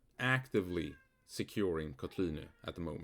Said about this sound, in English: That's a cat in the background.